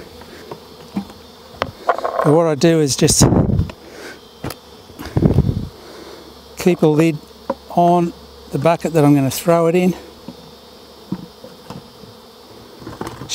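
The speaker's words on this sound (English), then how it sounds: "the bees are going nuts all over the wax" Bees buzz in rising and falling bursts over wax during a hive removal from a building, some close and loud, while a person talks intermittently over the droning.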